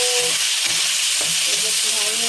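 Prawns sizzle in hot oil in a pan, a steady loud frying hiss with faint stirring clatter, alone with no talk.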